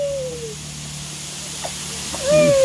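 A garden water sprinkler sprays during summer backyard play, a steady close hiss running throughout, with a brief high child's squeal rising over it near the end.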